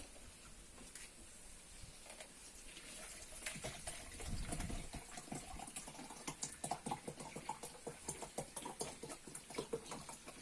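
Water runs steadily into a measuring jug, about one litre, while a natural neem-based pest spray is being mixed. The pour is a continuous splashing hiss that turns into rhythmic glugging and fairly close sloshing.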